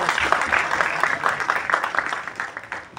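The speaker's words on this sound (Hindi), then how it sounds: "एक बार बंदा के लिए एक बार जोरदार ताली चाहिए।" An audience claps at a press meet for a movie trailer launch, a loud, continuous patter of many hands with uneven peaks throughout.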